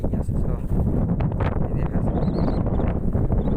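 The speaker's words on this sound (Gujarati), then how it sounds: "પવન બહુ કાઢે છે." Strong wind rumbles and buffets the microphone outdoors beside a village pond, a continuous low roar with gusty swells and no pauses.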